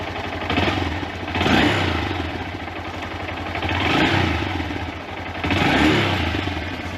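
A Honda Grom motorcycle engine runs nearby, rising and falling in gentle revs over a steady low putter, with light mechanical clatter and no talk.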